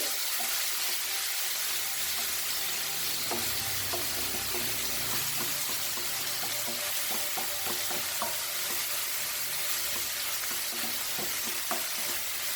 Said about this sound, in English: So I am frying this very nicely.